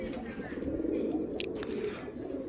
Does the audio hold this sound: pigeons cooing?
yes